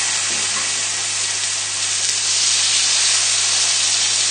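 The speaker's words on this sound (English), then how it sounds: "You see it's nice and smoking hot now. That's exactly what we want. So put the steak straight in." Steak dropped into a smoking hot pan sears with a loud, steady, unbroken hiss that runs the whole time, with a low constant hum underneath.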